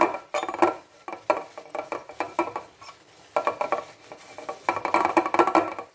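Metal idli plates and pans clink and clatter in quick, irregular bursts while the idli plate is oiled, close by, with brief pauses between the clusters of knocks.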